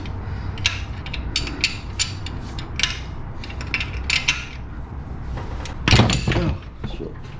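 A ratchet wrench loosens a transmission sensor bolt on a Honda Fit during a CVT fluid change, giving a string of close, quick metallic clicks with a louder clunk near the end and no talking.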